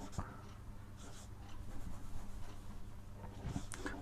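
Chalk or marker scratching across a classroom board during an English tenses lesson, steady soft strokes close by with faint room noise and no clear talking.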